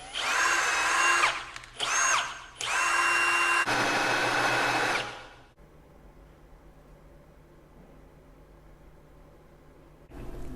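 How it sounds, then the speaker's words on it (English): Power drill boring a hole through the center of a marked wood workpiece, three loud whining bursts of drilling in quick succession, followed by quiet room tone and a faint thump at the end. "And take your drill bit and drill right here in the center."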